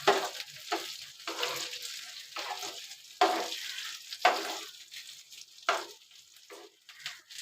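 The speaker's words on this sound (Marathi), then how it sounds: "आता राहिलेली मच्छी मी अशीच फ्राय करून घेणार आहे." Semolina-coated fish frying in a pan for a Malvani fish meal, giving loud bursts of sizzling that swell and fade in waves as pieces are moved around, with no talking.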